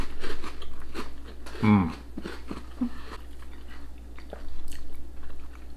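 Bacon-flavoured TUC crackers topped with cheddar crunched in a close bite near the two-second mark, with softer chewing noises and murmured appreciative sounds around it.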